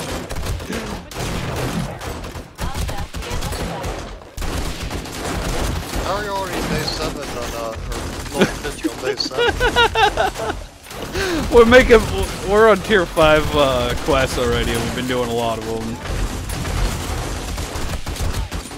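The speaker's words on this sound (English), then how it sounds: "I can't hear nothing over this gunfire going on." Rapid gunfire crackles through a zombie horde fight in a survival video game, bursts of fast shots with occasional heavier booms, while players talk over the din throughout.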